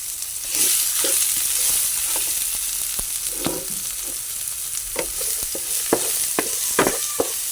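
Garlic and onion frying together in a pan for humba, a bright continuous sizzle broken by frequent clinking spatula stirs and scrapes, close and fairly loud.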